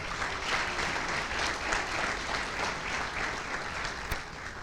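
A conference audience applauds steadily for earlier speakers at a software talk, a dense even wash of clapping heard from within the room with a single sharper knock near the end.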